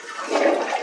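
A toilet flushes indoors, a short, close rush of water lasting under a second and rising slightly in the middle, with no voices.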